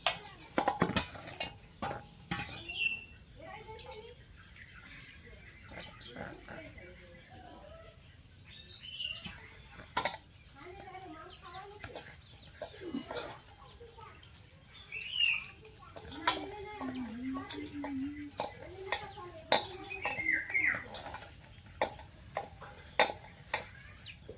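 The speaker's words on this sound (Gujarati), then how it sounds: "ચકલીઓ છે ને બહુ નજીક આવી જાય" Sparrows chirping close by in short scattered bursts, with occasional light clinks and clatter in between.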